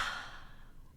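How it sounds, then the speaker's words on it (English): A single deep breath during pranayama breathwork, a soft, close exhale that fades over about a second with no talking. "let's just pause and take a deep breath"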